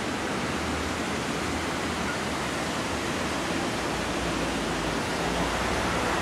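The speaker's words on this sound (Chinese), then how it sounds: "在回去的路上，第一条河竟然这么的澎湃" Rushing river water on a walking route in Lüneburg, Germany, a steady broadband roar of churning current that fills the whole stretch without pause, loud and close, with no voices over it.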